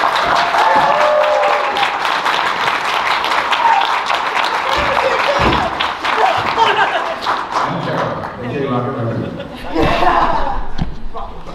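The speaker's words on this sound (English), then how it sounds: "Give a round of applause." A convention crowd at an anime festival's closing ceremony gives a sustained round of loud applause with scattered thumps, tapering after several seconds as a voice starts talking over the last of the clapping.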